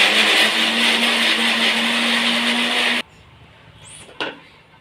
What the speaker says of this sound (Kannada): ಈಗ ತರ್ತರಿಯಾಗಿ ಸ್ವಲ್ಪ ನೈಸಾಗಿ ಇದನ್ನು ರುಬ್ಕೊಳ್ಳೋಣ